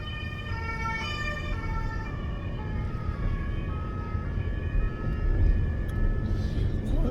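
A police siren passes outside, its wailing tones rising and falling at a distance over a low rumble of road traffic, growing a little louder toward the end.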